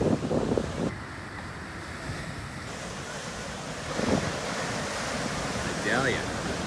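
Big swell breaking over deep water on a surf beach, a steady broadband roar of surf with wind buffeting the microphone and a brief voice near the end.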